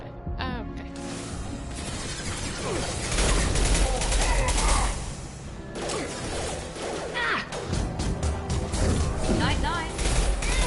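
Video game gunfire during a firefight in Mass Effect 2, with dense, busy bursts of shots and clattering impacts mixed among other combat noise from start to finish.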